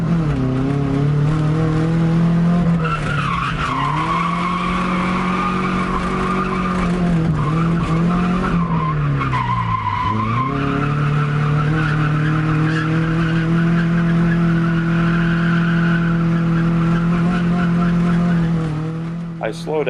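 A 1999 Subaru Legacy drifts with tires skidding and squealing in long sustained wails, its engine droning steadily underneath, loud and close throughout with no pauses.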